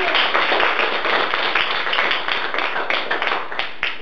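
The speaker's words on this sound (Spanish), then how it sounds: "Un aplauso por Emilia" An audience at a school quiz program in Otavalo gives a short burst of brisk, fairly loud clapping for a winning contestant, with many hands and a steady texture.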